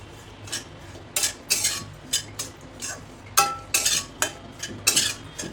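Grated dry coconut being stirred and roasted without oil in a hot kadhai: quick, rhythmic scrapes and clinks of a spatula against the metal pan, repeated in close bursts.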